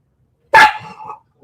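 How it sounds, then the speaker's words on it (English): A single loud, close dog bark, sharp and sudden, with a brief trailing whine after it, alone against silence. "She's got a horrible bark. Loud, way loud."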